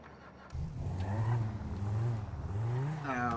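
A car engine revs and accelerates in a roleplay video game, a steady mid-pitched drone rising and falling in pitch as it speeds up, loud and continuous.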